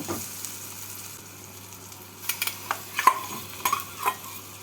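Fried mashed potato is stirred into chopped onion and tomato in a pan. A low, steady sizzle holds under a handful of spatula scrapes and taps that cluster in the second half.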